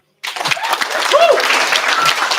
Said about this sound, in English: can we get one last big round of applause for Fatima and Jeremy?